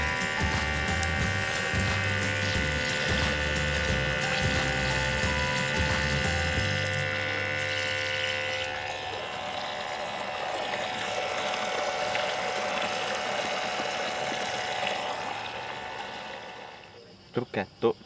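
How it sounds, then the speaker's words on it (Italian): A mini camping dishwasher sprays water jets to rinse chocolate residue off dishes. The steady motor buzz and hiss of water run continuously, soften partway through, then stop abruptly, followed by a few brief clicks. "quindi lo puliamo anche con getti d'acqua"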